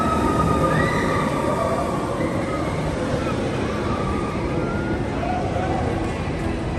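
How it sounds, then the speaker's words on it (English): A train running at the Magic Kingdom at night, a steady low rumble with faint squealing tones drifting over it, heard under a busy crowd with people talking nearby. "The train is still running."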